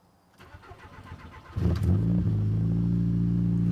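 A Mk4 Golf GTI tuned to 350 whp with a big turbo cranks for a moment, then catches and settles into a loud, steady idle with a deep rumble, close up and without talk.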